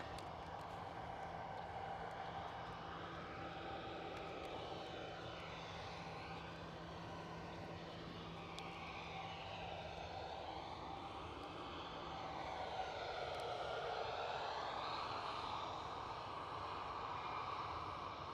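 An EasyJet airplane at Edinburgh Airport gives a distant, faint engine drone with slowly sweeping whine tones that swell toward the end, with no voices over it.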